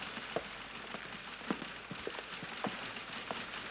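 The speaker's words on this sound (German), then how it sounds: "Hat wieder zu regnen angefangen. Nicht heftig, aber es regnet." Light, steady rain falls on a surface, a soft continuous hiss with scattered sharper drip taps, quiet and alone, with no voices.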